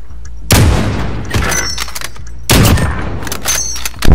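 Two loud, sharp sniper rifle shots fired through a wall in a competitive bomb-defusal shooter, each crack followed by a decaying rumble, roughly two seconds apart and close up.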